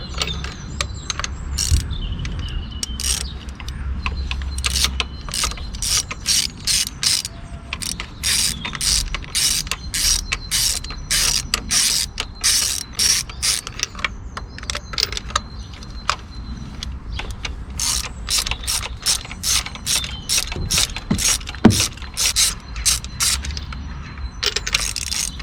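Long runs of quick ratchet clicks as a 16mm long spark plug socket is turned on a Skoda Octavia VRS petrol turbo engine, close and crisp, pausing briefly between bursts of cranking.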